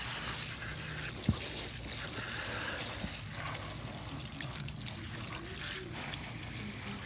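Water sprays steadily from a hose onto a homemade compost bin, a continuous hissing wash with a faint knock partway through and no talking.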